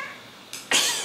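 A Sphynx cat vocalizes from another room, two short raspy bursts close together after near silence, the second louder and longer.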